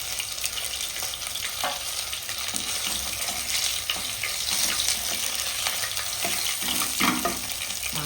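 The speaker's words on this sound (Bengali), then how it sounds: "মাছ ভাজাটা দেখুন, ঠিক আপনারা কিন্তু এইভাবে লাল করে কিন্তু ভোলা মাছটা ভেজে নেবেন।" Bhola fish pieces frying in hot oil in a pan, a steady dense crackling sizzle throughout with occasional sharper pops and spatters, close and continuous.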